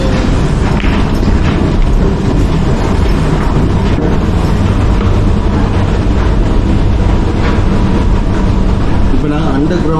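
A Paris Metro train rumbles loudly and steadily throughout, with continuous low-frequency roar and rattling, and voices talking faintly underneath.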